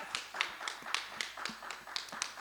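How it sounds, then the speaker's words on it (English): Sparse, fairly regular hand claps at a pageant-style awards event on women-led enterprises, quiet and thin, like a small handful of people clapping. "Give her another round of applause"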